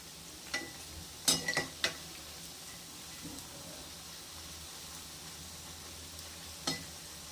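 Banana stem pakoda turning in hot oil gives a low, steady sizzle, with a few sharp utensil clinks and taps near the start and one more near the end.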